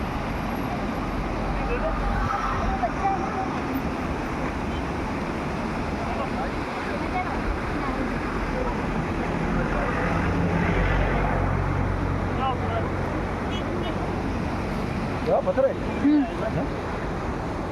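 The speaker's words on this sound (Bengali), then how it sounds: "এই যে সুন্দর একটা ওয়াটারফল" Rushing water from a waterfall near Baba Mandir in Gangtok roars as a steady broadband wash across the whole stretch, with wind buffeting the microphone and people talking over it.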